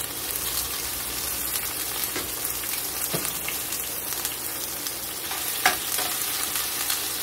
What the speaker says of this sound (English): Now this is going to splatter